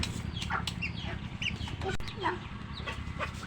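Pet chickens at home clucking softly and close, short repeated clucks and chirps over a low background hum.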